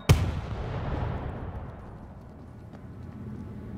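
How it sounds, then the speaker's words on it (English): A remote charge detonates in the co-op zombie shooter World War Z on hard difficulty: one sharp, loud blast at the start, then a long rumbling decay that fades under ongoing game noise. "Tossing a remote charge."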